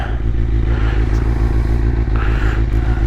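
A 2001 Kawasaki Ninja ZX-6R engine runs loud and close while being ridden, a steady pulsing drone with mechanical clatter and a couple of brief rises in pitch.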